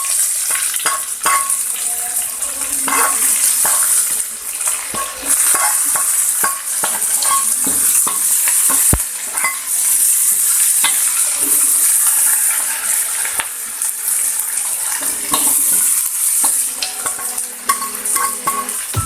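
Anchovies and onions stir-frying in a pan, chili and scallions being added: a steady loud sizzle runs throughout, with frequent scraping and clinking of a spatula stirring close by.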